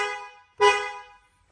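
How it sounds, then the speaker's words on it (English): Upgraded aftermarket horn on a Toyota Land Cruiser LC250, heard as a fading tail of one blast followed by a single short, loud, bright honk that dies away within about half a second. "On the right is the upgraded horn."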